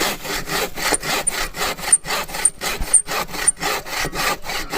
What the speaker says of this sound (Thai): เดี๋ยวผมจะลองเอา เลื่อยจัดการดูเลยนะครับผม